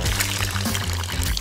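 Water pours steadily into a pair of shoes, a close, continuous gurgling splash that fills the short moment without any talking.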